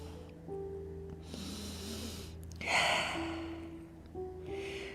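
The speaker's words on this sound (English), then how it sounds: "breathe" Deep breathing during a Pilates stretch, with long audible inhales and exhales and a sharper, louder breath in the middle, close against a steady low hum.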